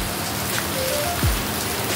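Heavy rain pours down steadily around a house, a dense, close, continuous hiss of drops striking surfaces, with no voices.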